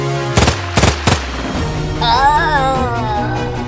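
Gunfire sound effect in a children's Independence Day play: three loud sharp shots in quick succession, followed by a wavering tonal sound effect ringing out afterward.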